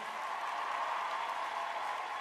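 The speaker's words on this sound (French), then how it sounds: "Est-ce qu'on peut applaudir très fort pour Bonheur, s'il vous plaît?" Steady, dense applause from an audience at a singing competition show, continuous and fairly loud throughout with no pauses.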